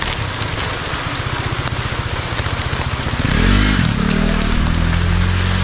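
Heavy rain pours steadily on a delivery rider outdoors as a close, dense hiss, with a motorcycle engine rumbling underneath that swells louder toward the end.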